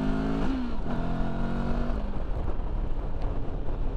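A Benelli TRK 702 motorcycle on a road trip pulls away under acceleration, its steady engine drone shifting pitch early on and then running on under constant loud wind rush.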